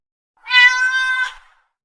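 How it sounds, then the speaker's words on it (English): A single clear cat meow, a bright, tonal cry lasting under a second against silence. "cat,"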